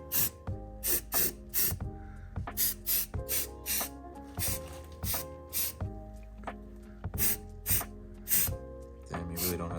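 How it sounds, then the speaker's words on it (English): Repeated bursts of spray coating being applied to a car subframe during engine preparation, each hissing spurt short and close with brief gaps between, while voices talk intermittently in the background. "I sprayed some coating off my subframe."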